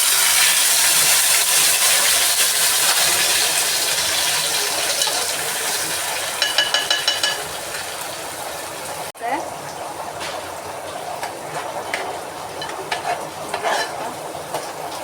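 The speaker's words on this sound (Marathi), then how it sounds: "तेल गरम केलेलं आहे तर त्याच्यामध्ये हा वाटण टाकते." Ground onion, garlic and ginger masala paste sizzles loudly in hot oil in a home kitchen, a dense continuous frying hiss with intermittent stirring scrapes and clinks throughout.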